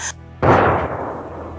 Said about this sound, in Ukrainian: Ну, так стріляють.